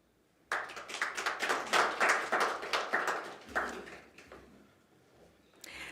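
An audience at the launch of Namibia's national sports jersey breaks into applause, a burst of many hands clapping close and lively for a few seconds before thinning out to scattered claps.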